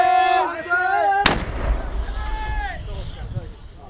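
A frontline mortar fires with a single sharp, loud blast and a rumbling tail on a battlefield in Iraq, cutting through a voice talking beforehand.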